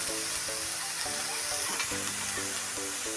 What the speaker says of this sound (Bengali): তবে কড়াতে আমি কোনো তেল দিচ্ছি না এমনি কড়াতেই আমি শাকটা চাপিয়ে দেবো